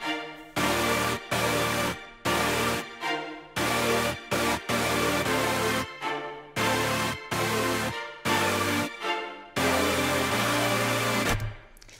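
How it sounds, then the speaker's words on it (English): A huge layered synth pad from an Undertale remix, built from eight stacked instruments, plays loud sustained chords in rhythmic stabs with short gaps, with no talking over it. "So this is a pad sound that I created from my Undertale remix,"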